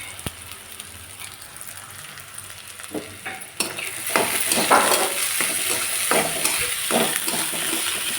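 Chopped onion fries in a pan for a spring onion greens bhaji: a steady, close sizzle that swells louder after a few seconds, punctuated by scraping spatula stirs, with no one talking.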